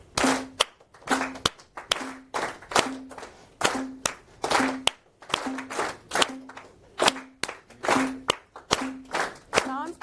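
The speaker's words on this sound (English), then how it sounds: "and let's all clap." Group of people at a workshop clapping in unison on a count, sharp regular claps in a steady rhythm, with a voice speaking between some of them.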